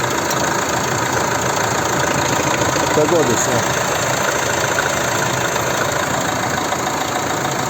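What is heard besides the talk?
diesel car engine idling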